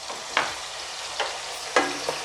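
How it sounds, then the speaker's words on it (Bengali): Spices stirred into hot oil for Punjabi dhaba-style chole masala, a steady sizzle broken by a few sharp spoon scrapes against the pan, close and with no voices. "দিয়ে সব মশলাগুলোকে ভালো করে মেশাচ্ছি।"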